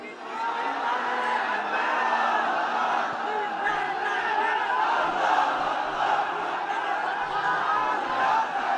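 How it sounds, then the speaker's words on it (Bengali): A large crowd at an Islamic sermon shouts the takbir in unison, a loud, sustained roar of many voices that holds steady for several seconds without any single speaker standing out. "তাকবীর দেন তো একজন আওয়াজ করে।"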